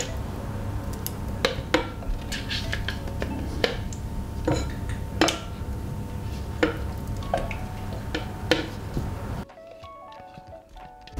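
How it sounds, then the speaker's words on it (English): Pesto is scraped and spooned into a bowl in a kitchen, giving close, irregular clinks and soft scrapes of utensil against the container over a steady background, ending in near quiet. "Now let's transfer our delicious pesto inside of this bowl."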